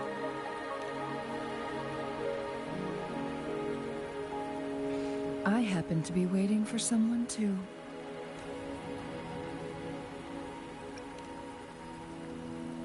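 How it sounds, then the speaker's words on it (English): Steady rain patters throughout a scene in the video game Wuthering Waves, a soft even hiss under game music, while a character speaks briefly midway. "Don't worry, the rain won't last much longer."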